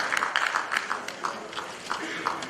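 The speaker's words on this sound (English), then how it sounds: "A round of applause for yourself." Conference audience gives a round of applause at an African Bar Association annual meeting in Liberia, a steady, moderately distant patter of many hands clapping throughout.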